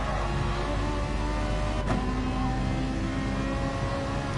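Race car engines, a Ferrari and a Jaguar in a racing video game, make a steady loud whining drone with no break, and there is a brief sharp tone shift partway through.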